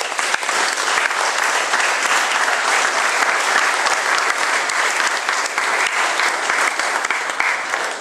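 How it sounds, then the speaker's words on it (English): Sustained, dense applause from a chapel congregation at a camp gathering, loud and steady throughout with no talking over it. "I want you guys to applaud this man right now"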